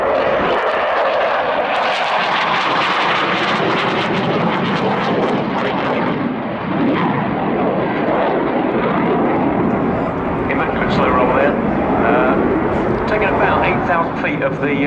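A Saab Gripen fighter jet flying an airshow display by a Swedish Air Force pilot roars loudly and continuously, its engine noise swelling and shifting as it passes, while a commentator talks over it.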